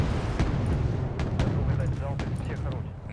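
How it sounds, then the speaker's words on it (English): Missile strikes and heavy weapons fire in the Wargame Red Dragon video game, a dense rumbling barrage with repeated sharp impacts over a constant low roar, with speech mixed in. "Get those missiles onto the target."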